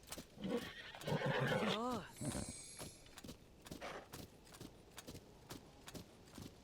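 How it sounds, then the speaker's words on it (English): A giant horse whinnies loudly in a Zelda video game with a rising, wavering call amid game-like sound effects and a bright shimmering tone, followed by ongoing talk. "Here's a giant horse."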